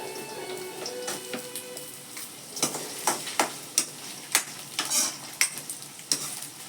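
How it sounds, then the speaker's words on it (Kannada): Potato pieces go into onions already frying in a pan and are stirred with a spoon, giving a constant sizzle under a run of sharp scraping and tapping strokes that grow more frequent in the second half, with no one talking. "ನೋಡಿ ಆಲೂಗಡ್ಡೆ ಹಾಕೋತಾ ಇದ್ದೀನಿ ಅದರಲ್ಲೇ."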